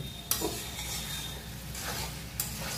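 Spice paste made with cashews and poppy seeds frying in a pan, a steady close sizzle with two sharp scrapes of a stirring spoon against the metal.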